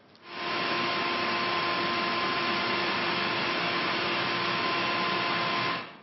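An Electrolux Zincas ZX1600 vacuum cleaner switches on, runs with a loud, steady close roar and a faint motor whine, then winds down after about five seconds, with no voices.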